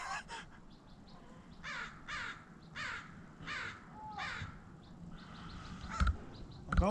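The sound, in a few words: crows cawing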